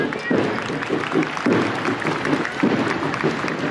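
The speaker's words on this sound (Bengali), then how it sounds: "আসুন আমরা করতালির মাধ্যমে তাদেরকে" Students at a school annual sports event are cheered by a crowd clapping steadily, a dense wash of applause with a murmur of voices mixed in.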